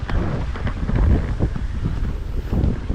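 Strong wind gusts across open paddy fields, roaring and buffeting the microphone in a steady low rumble with surges, no voices.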